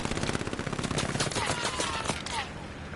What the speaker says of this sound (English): Juhar's keeping him pressured with that MG42.